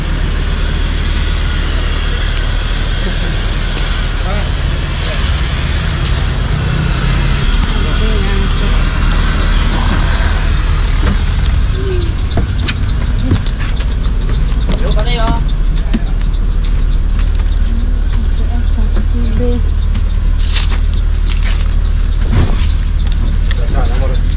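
A bus engine idles loudly and continuously at a Sumatran bus stop during boarding, with a heavy low rumble, scattered knocks and clatter throughout, and people talking over it.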